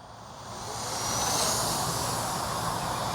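The electric motor of an XK A280 560mm RC airplane spins up for takeoff. Its steady buzzing whine swells in loudness over the first second and then holds at full strength, heard alone and fairly close.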